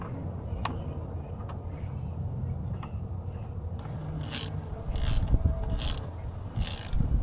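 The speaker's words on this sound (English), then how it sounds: "I installed the new O-ring onto the bolt and tightened the bolt." A bolt being tightened on the steering shaft of a Volvo Penta V8/V6 DPS-A sterndrive, with close ratcheting and mechanical clicks and scrapes, ending in a few sharp repeated ratchet bursts.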